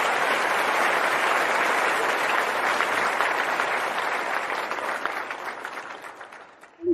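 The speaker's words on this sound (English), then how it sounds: "and then we can do clapping" Steady, full audience clapping fills a celebration stream, holding dense and even before thinning out toward the end, where a brief close bump sounds at the very finish.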